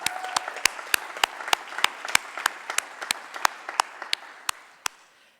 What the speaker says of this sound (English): Can we give them a round of applause for how far they've come?